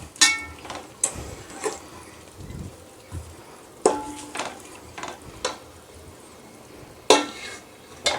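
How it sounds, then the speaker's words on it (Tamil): Yogurt is stirred into stingray fish biryani masala in a pan, making a low sizzle broken by repeated clinks and scrapes of a spoon against metal at an irregular rhythm, close and clear. "நல்லா கிளறி விட்டுக்குவோம்."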